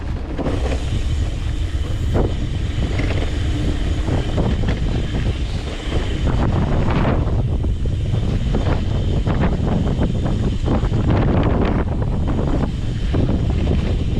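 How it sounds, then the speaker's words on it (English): Strong desert wind roars and buffets the microphone in loud, continuous gusts on a winter day at Wilson Creek, Idaho, rising and falling in intensity with no voices. "it's almost always windy out here"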